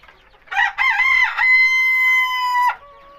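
A rooster in a rooftop-garden flock of Kadaknath, police cap and farm chickens crows once, loud and close, in a single drawn-out call over quiet surroundings.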